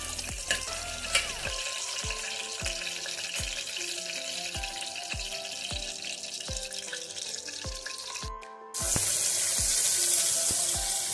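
Green chillies sizzle in an oil pan for a beetroot biryani, a steady frying hiss with a regular rhythm of stirring knocks, then a louder, brighter burst of sizzle near the end.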